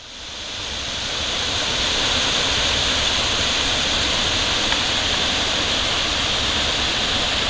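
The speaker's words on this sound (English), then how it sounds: "This is effluent from the stone quarry going into Crabtree Creek after downpour" Stone quarry effluent pouring into Crabtree Creek after a downpour, a loud, steady roar of rushing water that fills the whole clip without let-up.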